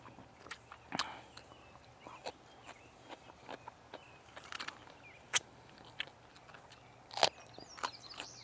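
Crunchy raw kohlrabi being bitten and chewed close to the mic, giving sharp crisp crunches at irregular intervals over a quiet background with a low steady hum.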